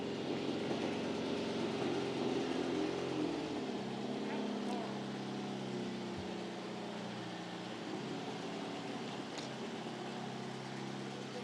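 A classic car engine runs steadily at the Ironstone Concours d'Elegance, a continuous low rumble that stays loud through the whole stretch, with the note shifting slightly partway through and background voices mixing in.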